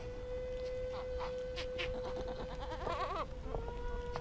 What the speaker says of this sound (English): you see up to 100 goats at a time.